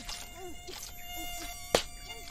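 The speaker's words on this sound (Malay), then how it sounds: "Ish, banyaknya nyamuk." Faint, thin buzzing of mosquitoes hovering close by, with a soft click partway through in an otherwise quiet setting.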